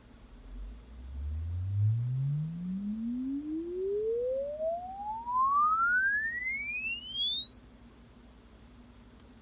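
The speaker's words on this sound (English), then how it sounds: "a sine wave sweep from 30 hertz to 18 kilohertz" A pure sine tone sweeps smoothly upward from 30 hertz to 18 kilohertz over several seconds, from a deep hum to a piercing high pitch, steady and alone, played through a speaker.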